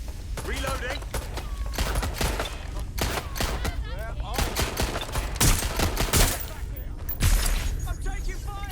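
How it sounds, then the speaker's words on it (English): Dense, rapid gunfire aimed at the player in Watch Dogs Legion, loud continuous volleys and overlapping shots hammering throughout with brief peaks, voices heard amid the shooting. "I'm taking fire."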